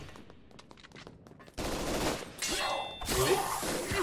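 A quiet opening gives way to sudden, loud, sustained gunfire from Yakuza enemies in the Shadow Warrior game, a thick burst of automatic shots with a sharp shattering crack near the end.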